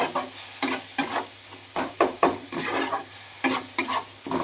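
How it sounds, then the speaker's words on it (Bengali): Food frying in a pan after salt goes in, stirred with a utensil that scrapes and knocks in quick irregular strokes over a continuous sizzle, close, fairly loud and with no talking. "নুন নুনটা দিয়ে খানিক্ষণ আবার একটুনি নেড়ে নেব"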